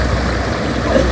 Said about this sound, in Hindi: कुएं से पानी आ रहा है, ये सारा बाग को साफ कर रहा है।